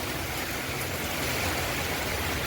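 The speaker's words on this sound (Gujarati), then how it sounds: "બાર વરસાદ ચાલુ છે સારો એવો" Heavy rain falling steadily outdoors during a windy monsoon downpour, a dense, even wash of noise with no breaks across the whole stretch and no voices.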